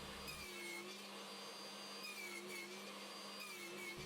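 Table saw blade cutting beech pieces guided against the fence, a steady loud whine running throughout with a constant motor hum beneath it.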